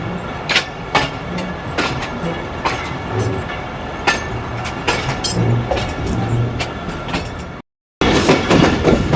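A train draws toward Abad railway station on the inaugural run of the 19 Up Khushhal Khan Khattak, with steady rolling rumble and repeated sharp wheel clicks close by, then a brief dropout before the noise resumes.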